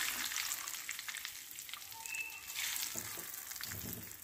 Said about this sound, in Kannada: ಆ ಅವಲಕ್ಕಿಯನ್ನು ಸ್ವಲ್ಪ ಸ್ವಲ್ಪ ಹಾಕ್ಕೊಂಡು ನೋಡಿ ಈ ಥರ ಎಣ್ಣೆಯಲ್ಲಿ ಕರಿಬೇಕು.